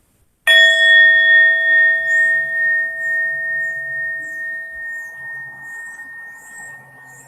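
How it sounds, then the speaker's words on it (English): A single meditation bell is struck once, ringing out clear and loud with steady tones that slowly fade as it resonates for several seconds in a quiet room. "as we listen to that bell resonate, we'll start the meditation practice"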